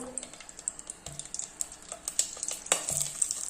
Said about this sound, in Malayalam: മൂന്ന് തക്കാളി നമ്മളൊന്ന് ഒന്ന് വറുത്തെടുക്കുന്നു